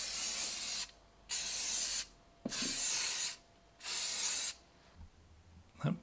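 Several bursts of aerosol spray paint hissing close up inside a cardboard box spray booth, each lasting about a second with short pauses and faint rattles between them.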